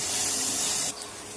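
Tomatoes dropped into a hot pan of sautéed onions and fennel powder for chicken gravy, giving a loud, steady sizzling hiss that drops sharply in level just under a second in and then continues more quietly.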